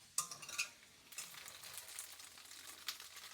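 Tofu frying in a pan, a faint, steady sizzle with a few sharper crackles and spatters near the start and a brief scrape of stirring, heard close and alone.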